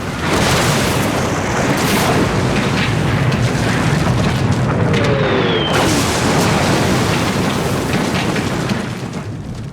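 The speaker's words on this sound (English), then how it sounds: "95 miles away, troops in the Vosges can hear the bombardment" A World War I artillery bombardment by shells on French positions near Verdun comes through as a dense, continuous roaring rumble of overlapping booms, loud and unbroken throughout.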